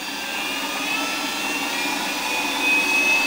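A Warco WM18B benchtop milling machine cutting metal gives a steady, close motor-and-cutter whine with a faint rising edge toward the end, with no voices.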